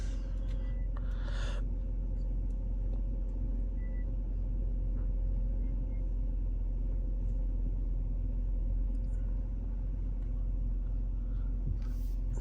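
A 2014 Mercedes-Benz C250 sedan idling after a cold start on a cold day, a steady low rumble heard from inside the car with a few faint clicks and rustles.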